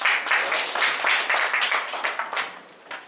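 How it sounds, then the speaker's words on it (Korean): A lecture audience gives warm applause welcoming the speaker to a special history lecture, steady close clapping from a modest crowd that thins toward the end. "뜨거운 박수로 환영해 주시기 바랍니다."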